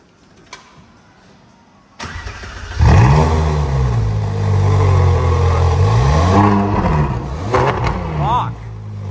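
A car engine in a garage cranks and fires up after a short quiet moment, then revs loudly in several rising and falling bursts close by.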